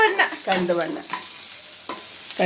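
Onions frying in a pan until browned, heard as loud, squeaky scraping strokes of a stirring utensil over a steady background sizzle, recorded close.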